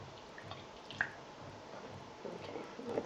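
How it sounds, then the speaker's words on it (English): A spoon stirs powdered gelatin into a small amount of water for a homemade hair protein treatment. It gives faint, close liquid squishes and a light clink or two. "we take our spoon and we mix that up together"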